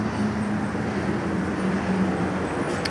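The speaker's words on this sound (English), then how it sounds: "I'm sorry for the wind again and the road noise" Steady road traffic noise from a nearby main highway forms a dense, continuous rumble and hiss with a faint engine drone, mixed with wind buffeting at a campground where a small camping trailer is parked.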